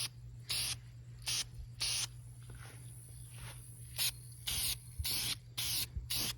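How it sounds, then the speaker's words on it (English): Rattle-can spray paint goes onto the frame of a Bumpside project truck in short, repeated bursts of close aerosol hiss separated by brief gaps, over a faint steady hum. "I'm no rattle can master"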